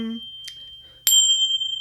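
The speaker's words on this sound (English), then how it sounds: "so they're my Tinchy bells" A pair of small tingsha bells struck once, giving a single bright metallic ring that sustains clearly after a brief bit of quiet and a faint voice fragment before it.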